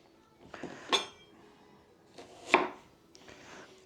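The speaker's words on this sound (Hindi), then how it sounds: "प्याज को आपको बरिस्ता के लिए ज़्यादा बारीक नहीं काटना होता है" A kitchen knife chops onions on a board for barista, Indian fried onions, with three separate cutting strikes spaced about a second or more apart, close and moderately loud in a quiet room.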